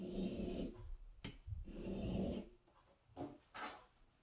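Scissors are honed on a fine wheel of an old Twice As Sharp sharpening machine, giving a steady close rasping grind in long passes broken by brief pauses and a sharp click.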